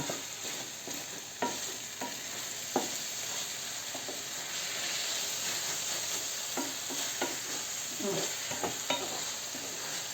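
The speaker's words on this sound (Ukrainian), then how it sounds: "Ви можете і в каструлі з товстим дном смажити це все." Overgrown cucumbers and vegetables sizzle and crackle steadily in a large frying pan, with occasional scrapes and clinks of stirring throughout; no talking.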